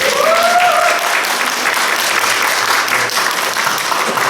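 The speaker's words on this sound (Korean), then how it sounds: "박수 한번 좀 해주실까요?" A congregation gives warm, sustained applause during a Sunday service at a Korean Presbyterian church, steady clapping filling the hall, with a brief voice rising over it at the start.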